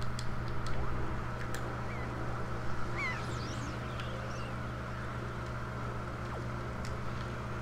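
Seagulls in Wind Waker HD on an island give a few squawking calls, mostly in the opening seconds, over a steady low hum of ocean and game ambience, with no one talking.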